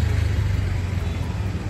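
Street traffic outside during Diwali celebrations: a steady, loud engine drone with a low rumble from passing cars, with no talk over it.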